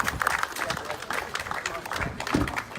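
Crowd applause at a residential property auction in Oakleigh East, Melbourne, right after the sale, with scattered clapping mixed with voices and chatter.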